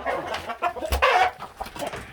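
Chickens brought to sell at a market cluck and squawk close by in a series of uneven bursts, with a louder squawk in the middle.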